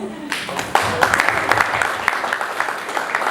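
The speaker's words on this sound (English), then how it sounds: "so please give him a round of applause." A round of applause at a youth tech day event swells up after a brief pause, then carries on as loud, close clapping from a room full of people with faint crowd noise underneath.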